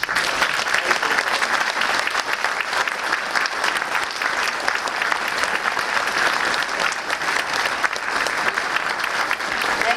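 A seated audience at a heritage presentation for Auchmar claps warmly in a long, dense, even round of applause that holds steady throughout, close and full, with faint murmurs underneath.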